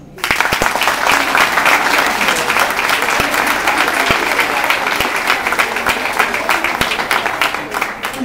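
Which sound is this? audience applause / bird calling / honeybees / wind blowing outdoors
audience applause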